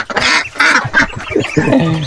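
Loud, close Peking duck quacking in a rapid series of harsh, nasal calls on a small farm, several overlapping bursts with no talking.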